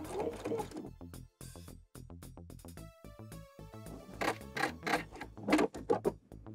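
Sewing machine stitching a repair in chiffon fabric on a dress, a rapid rhythmic mechanical chatter that starts, pauses briefly and resumes, close up with light handling noise.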